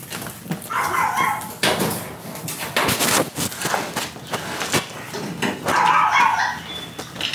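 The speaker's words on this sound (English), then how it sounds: "Oh, gosh, the dog." A dog barks and yips repeatedly nearby in short bursts, a few with a whining edge, loud and close with no talk over it.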